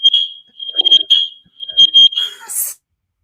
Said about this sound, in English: there is an alarm system they're testing